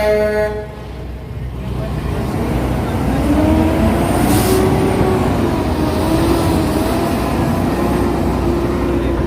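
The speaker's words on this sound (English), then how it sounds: "That's a garbage truck." A garbage truck rumbles through busy Times Square in New York City, its engine drone and a rising whine sitting in dense street noise with traffic hum and a brief high squeal.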